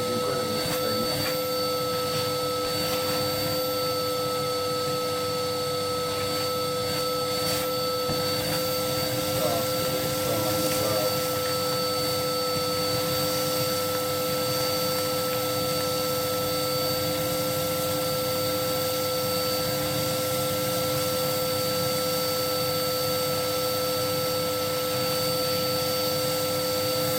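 Hoover vacuum cleaner cleaning an Edwardian tiled hearth and arched back panel, a loud, steady whining roar with a constant high tone that runs unbroken throughout, near the listener.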